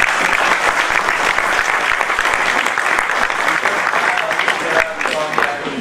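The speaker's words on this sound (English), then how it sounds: "So, round of applause to him." Sustained, dense applause from an audience at a business school talk, loud and steady throughout with no speech over it.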